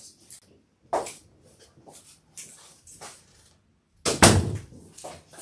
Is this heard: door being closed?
yes